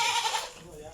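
A single short goat bleat sounds close by and fades quickly.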